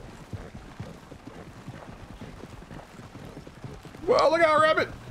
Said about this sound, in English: We got a funky looking horse on here.